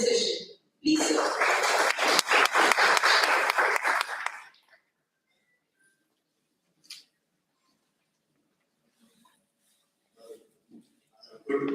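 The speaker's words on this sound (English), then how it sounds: "Now, with a huge round of applause, I would like to invite Mr. Arun Mathur" Audience applause at a school principals' conclave in Lucknow, a loud burst of clapping lasting about four seconds before the hall falls nearly silent with a few faint noises.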